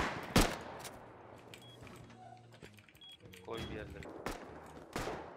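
Gunfire in the survival game Rust during a base raid, sharp bursts and single shots, one loud crack near the start and further shots later, mixed with close voices talking over the action.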